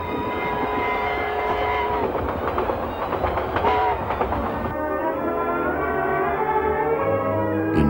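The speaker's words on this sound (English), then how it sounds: "this was the last time that steam would haul a royal train in New Zealand" A steam locomotive hauling a royal train in New Zealand rumbles past with heavy rolling and chuffing. Its whistle sounds through the middle and is followed by a sustained tone.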